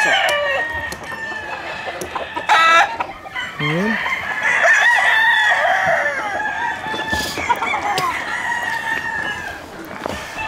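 Roosters crow repeatedly over steady clucking on a farm holding about 300 birds, loud and close, with several overlapping calls and a faint voice in the background.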